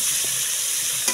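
Crab frying in a hot pan while being stirred, a continuous bright sizzle with soft stirring scrapes and a small clink at the end, no voices.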